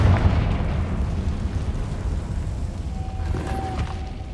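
A Confringo spell bursts in Hogwarts Legacy as a muffled boom, blending into continuous low rumbling game ambience with a brief tonal shimmer near the end.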